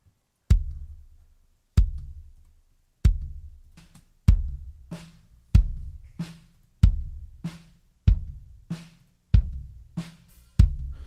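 A punchy kick drum hits alone at a steady, even pace, nine thumps with a sharp click on top and a short decaying boom.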